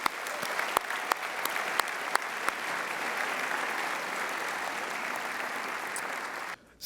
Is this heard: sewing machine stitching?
no